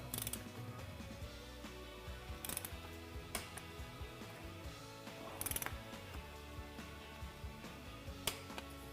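A torque wrench tightens cylinder head bolts during a rebuild, giving a run of faint mechanical ratcheting ticks with a few sharper clicks spread through the stretch.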